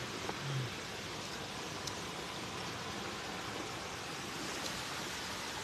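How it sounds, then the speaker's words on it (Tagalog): Steady broadband rush of a flowing river beside a riverside meal of freshly cooked fish, continuous and even, close by, with no talk. "Sarap pakinggan yung agos ng ilog mga idol."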